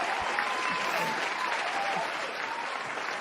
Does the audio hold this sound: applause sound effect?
yes